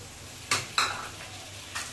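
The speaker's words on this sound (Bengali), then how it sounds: "এবার সব কিছু মশলা একসাথে নেড়ে চেড়ে সুন্দর করে কষতে হবে" A spice paste of ground cumin, chili and nut-soaking water is stirred in a pan for a vegetarian vegetable dish, giving a few soft scraping strokes over a faint steady sizzle.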